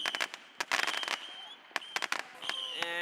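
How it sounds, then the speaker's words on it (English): Fireworks set off outdoors from a rooftop during Ramadan: a rapid string of sharp, loud cracks and pops in bursts, with brief gaps and a whistling, sizzling tail near the end. "We're lighting fireworks before Isha"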